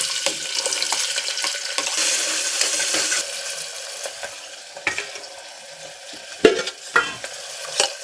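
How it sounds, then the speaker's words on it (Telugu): Tempering spices for a beans curry splutter in hot oil, a dense crackling hiss with sharp pops that thins out and becomes scattered toward the end. "అది చిటపటలు ఆడేదాకా వేగనిద్ది"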